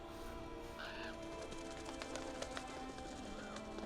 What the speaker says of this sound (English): Well, those are some angry birds.